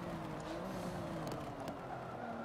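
A Porsche in the Forza racing game drones with steady engine noise and faint tire squeal as it brakes on track, quiet and continuous.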